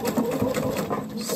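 Sewing machine running steadily at close range, its brisk whirring stitches passing over a folded sleeve placket at a cuff.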